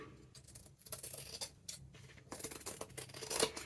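Scissors snip along a frayed fabric edge while trimming a junk journal page, a run of quick, crisp close-up cuts with brief pauses between them.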